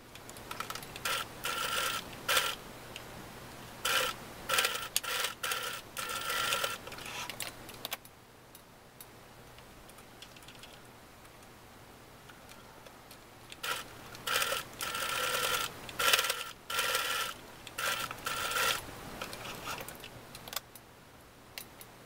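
Domestic sewing machine stitching in the ditch on an elastic waistband of a shirt made from old fabric, with bursts of rapid mechanical chatter separated by pauses and a faint steady hum beneath, close and moderately loud.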